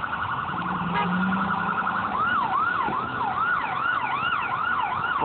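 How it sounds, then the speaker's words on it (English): A police siren passes on a city street, wailing in a repeated rising-and-falling sweep over steady traffic rumble, loud and fairly close throughout. "Oh, there's police."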